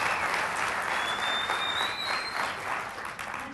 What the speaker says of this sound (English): Does this lady absolutely deserve incredible applause?